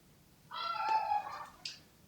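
A small cat gives one drawn-out meow indoors, then a short chirp right after. Both are close and fairly clear over a quiet background, with no talking.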